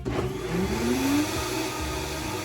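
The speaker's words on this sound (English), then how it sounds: "And I'm gonna put this in a blender, which I'll show you." A kitchen blender runs during cooking, a loud steady motor whir with a brief pitch rise as it spins up, continuous for a couple of seconds with no voices.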